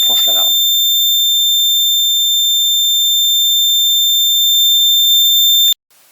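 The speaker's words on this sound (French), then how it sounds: "ça déclenche l'alarme." An alarm set off when an infrared barrier beam is broken emits a steady, piercing electronic tone that holds for several seconds before cutting off abruptly; brief speech-like sounds occur right at the start.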